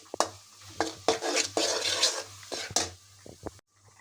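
A spoon scrapes and knocks around a pan as jaggery, grated coconut and cardamom powder are stirred together, giving a run of irregular clinks and scrapes over a low steady hum, with a few sharper taps near the end.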